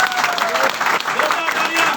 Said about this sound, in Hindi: वेलकम और जोरदार तालियां